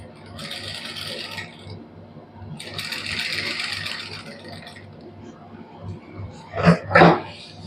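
A sewing machine stitches lace onto fabric for a sweetheart neckline in two sustained whirring runs, then stops. A voice talks throughout, and a few sharp knocks come near the end.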